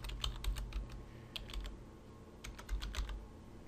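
Keys clack on a computer keyboard as a password is typed, in quick bursts of several strokes with a short pause between, close and fairly quiet with no talk.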